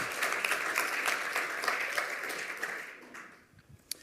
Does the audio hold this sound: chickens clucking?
no